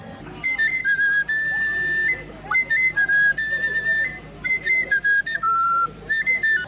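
A shrill whistle sounds in a series of sustained and wavering blasts, some long and some short, separated by brief gaps, with a low background rumble.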